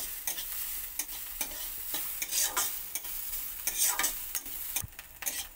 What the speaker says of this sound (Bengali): গাজরটা আমার ভাজা হয়ে গেছে।